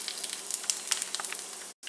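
Fresh herbs sizzling in a skillet with a steady, close crackling hiss full of tiny pops, cutting off abruptly near the end.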